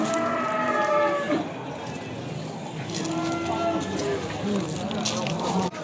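Calves and cattle mooing at an outdoor livestock bazaar in Beylagan, several drawn-out lowing calls close by, mixed with people talking and general market bustle.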